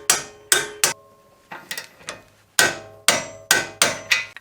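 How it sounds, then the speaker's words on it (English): A torque wrench tightening a nut on an angle kit for an E36 drift car, a close series of about a dozen sharp metallic clicks in uneven bursts, each ringing briefly before the next. "we're gonna torque this down to 62 foot-pounds."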